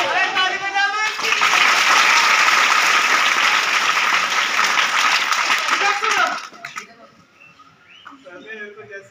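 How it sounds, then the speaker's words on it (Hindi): Applause from a live audience at a solo stage play, dense steady clapping that fills the room for about six seconds, then cuts off to quiet room sound and a few scattered sounds. "अरे ताली बजा दो इसकी"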